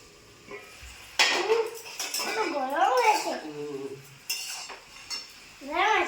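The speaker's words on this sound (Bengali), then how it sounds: "কড়াটা সাঁড়াশি করে ধরি" A metal kadai wok is gripped with tongs during vegetable cooking, giving a few sharp clanks and scrapes of metal on metal, near and fairly loud, while a voice talks alongside.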